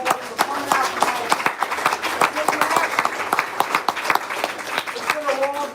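Audience applause at an Amazon networking event, a dense steady wash of many hands clapping for the full stretch, fairly close and loud, with some cheering mixed in.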